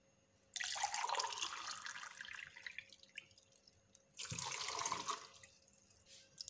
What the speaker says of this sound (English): Then you add only a cup of water.